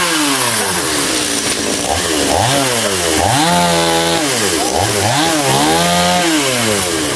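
A chainsaw cuts into a giant xà cừ (conch) tree near a home, running loud and close throughout, with its engine pitch repeatedly swelling and dropping as the bar bites into the wood.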